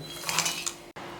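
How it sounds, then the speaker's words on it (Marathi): Garlic and green chilies drop into a steel mixer jar for spicy garlic sev, a brief cluster of light metallic clinks and taps close by, followed by a quick pause. "आता हे लसूण हिरवी मिरची या मिक्सरच्या भांड्यात घालून"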